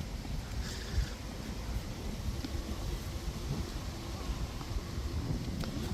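Wind gusting around a boat out on the water makes a low, rumbling buffet on the microphone, with soft lapping and a few faint clicks and knocks, moderately quiet and without speech.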